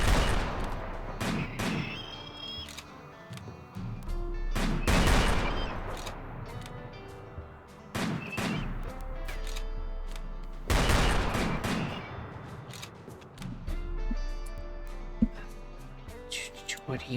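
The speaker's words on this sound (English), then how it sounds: "Fire off a few shots, see what happens." Video game gunfire sounds in sharp bursts and bangs, some clustered into rapid volleys and a few heavier booms, spread across the scene with a voice talking over them.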